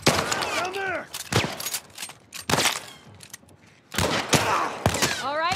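Gunfire in The Last of Us, with sharp close gunshots fired in separate bursts between quieter stretches. A voice talks in between the shots.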